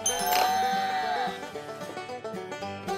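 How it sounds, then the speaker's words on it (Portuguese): A toy farmhouse plays a sheep bleat behind its green door: a quavering bleat at the start over a bright electronic tune that carries on alone afterward, with no voices. "E a ovelha atrás da porta verde."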